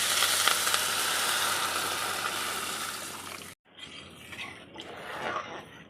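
Spice masala with potatoes sizzles loudly in a pan for pabda fish curry, then water goes in, cutting the hiss abruptly to a softer bubbling simmer.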